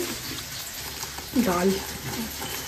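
Dal hits hot hilsa oil with dried red chillies for tempering, a steady frying sizzle with a sudden louder burst partway through.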